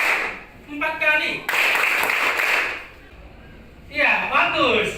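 Classroom students clap together in a short patterned burst, sharp and fairly close, with speech before and after the clapping.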